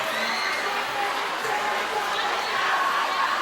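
The Adams home crowd at a 1993 high school basketball game in a gym roars and cheers steadily, a dense wash of shouting voices carrying on without a break.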